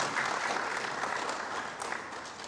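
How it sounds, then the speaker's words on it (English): An audience at a Caribbean tech forum conference applauds a speaker, a steady wash of clapping from many hands that slowly thins out, with no voices over it. "let's give Stephen another round of applause"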